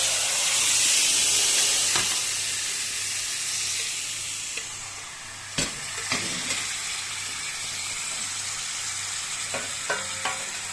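Spices for a tadka sizzle in hot oil, added to a curry pakora, with a steady hissing crackle that eases over time, punctuated by a few sharp clinks of a utensil.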